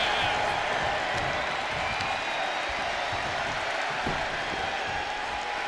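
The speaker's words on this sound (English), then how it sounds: "So we got Raven now going for a good pop from the crowd." A wrestling crowd at a San Francisco show roars in a steady, dense wash of cheering and applause that holds loud throughout, with scattered whoops rising from the din.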